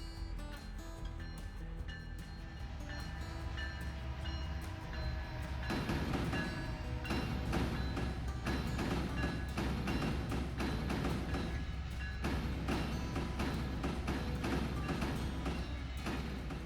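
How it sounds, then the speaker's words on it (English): A CN coal train in a train video game rumbles across a rail diamond with a loud, steady rolling drone and repeated clattering wheel thumps as the cars pass. "Here comes the CN coal train that's about to go across the Diamond."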